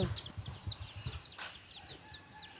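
Ducklings being fed mixed feed give a run of thin, high peeps in quick succession, over soft, low, rhythmic thuds nearby.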